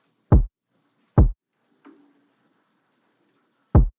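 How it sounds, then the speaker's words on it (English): A knocking sound in a music mix processed with a StudioRack preset: three sharp, loud, isolated knocks spaced apart, with a faint softer tap between them in an otherwise quiet mix. "You can still hear that knock."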